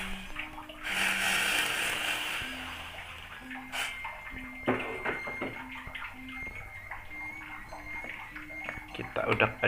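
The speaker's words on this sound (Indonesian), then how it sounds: "kita masukkan air panas secukupnya aja" Hot water pours into otak-otak batter in a steady, splashing stream for several seconds, with a background tone and scattered clinks as it settles; no one speaks.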